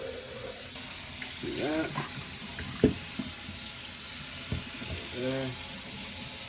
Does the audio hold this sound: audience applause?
no